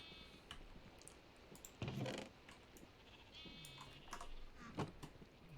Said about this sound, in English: The sheep are now in.